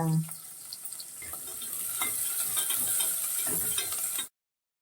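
Onions and curry leaves frying in a pan, a steady close sizzle with crackles and light scraping of a spoon against the pan, rising slightly then stopping abruptly.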